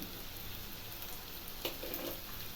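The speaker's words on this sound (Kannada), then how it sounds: "ಇದೊಂದು ಎರಡು ನಿಮಿಷ ಚೆನ್ನಾಗಿ ಫ್ರೈ ಆಗಬೇಕು" Onion and ginger fry in a pan for rava uppittu, a close, steady sizzle with soft crackles and a brief stirring clatter partway through.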